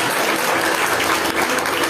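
A church congregation claps hands in praise, a loud, continuous mass of clapping from many people that fills the sanctuary for two seconds without speech.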